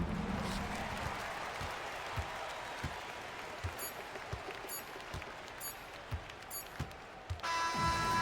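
Home crowd applauding and cheering after an NBA Finals game between the Spurs and Knicks, a broad steady wash of clapping with scattered louder claps and whistles, under the noise of a full arena.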